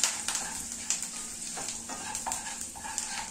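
Garam masala, turmeric and amchur powder fry in hot oil for an aloo paratha filling, giving a steady close sizzle broken by a few sharp scraping stirs of a spoon in the pan, with no talking.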